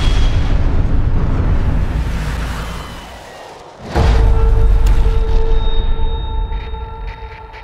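Artillery strike explosions from a war film: a deep, roaring blast fades, then a second heavy boom hits at full force and rumbles on loudly, with ringing tones lingering afterward.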